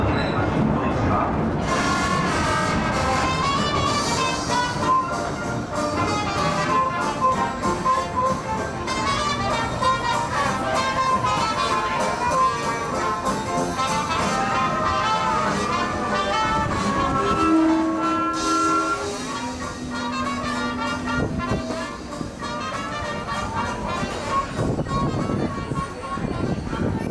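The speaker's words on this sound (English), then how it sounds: "please stay seated till the train comes to a complete stop." Disneyland Railroad steam train ride, with steady rumbling rail noise and mechanical clatter heard from on board throughout, a voice announcing over it.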